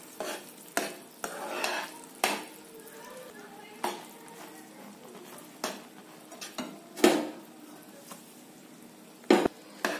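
A spoon stirs a peanut powder and sugar mixture in a pan for palli barfi, giving irregular scraping taps and clinks against the metal with a soft sizzle underneath.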